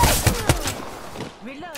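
Gunfire aimed at the player in Apex Legends, two sharp close shots in quick succession followed by a fading tail and a faint voice-like sound at the end.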